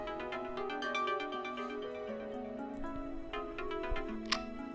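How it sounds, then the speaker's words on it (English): A phone's alarm tone, triggered by holding the centre button on a Mint tracker, plays a quick repeating melodic ringtone pattern of bright electronic notes, moderately quiet and alone. "By holding the center button, your phone will give off an alarm"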